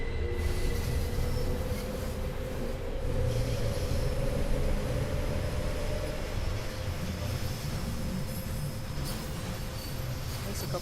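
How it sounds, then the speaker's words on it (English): Train carriages roll along the Bernina line at night in Train Sim World, a continuous rumbling wheel drone with a faint steady whine above it and no voices. "At least I've got the other carriages rolling with it this time around."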